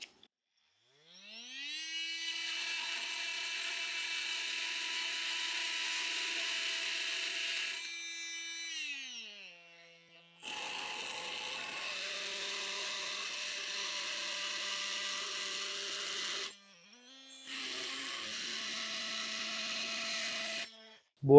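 A Festool OSC 18 oscillating tool cuts into an 8 mm thick steel Bosch blade, its loud high buzzing whine running in three long bursts separated by short pauses, close up.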